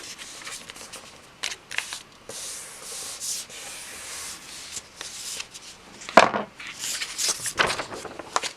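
Paper being creased into a fold for a custom A5 Hobonichi Techo notebook cover, close dry rubbing and scraping strokes with a few sharper crinkles, no talking.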